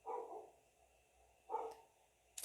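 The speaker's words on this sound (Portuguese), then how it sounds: "teu cachorro latindo pra caralho" A dog barks twice, about a second and a half apart, faint and somewhat distant in a quiet room, with no one talking.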